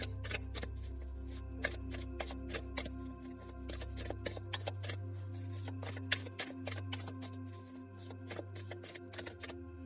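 Tarot cards are shuffled for a reading in a long run of rapid, crisp riffling flicks and taps, close up over a low steady hum, with no voice.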